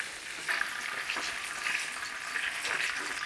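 Breaded pork schnitzel frying in a hot pan, a steady close sizzle with faint crackles and popping throughout, no voices.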